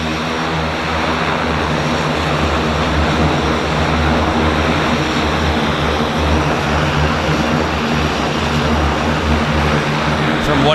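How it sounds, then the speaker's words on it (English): A Cessna Caravan floatplane pulls away from a dock at a downtown harbour airport, its turboprop engine and propeller droning steadily and loudly throughout with a constant, broadband roar. "we've got a Caravan pulling off dock right here in front of us."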